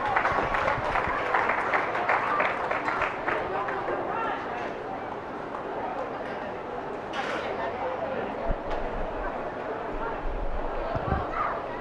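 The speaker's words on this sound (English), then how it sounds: "give him a big round of applause" Audience applause at a 4-H and FFA swine showmanship event, steady clapping from a crowd sustained throughout, mixed with crowd noise and voices, with a few scattered thumps near the end.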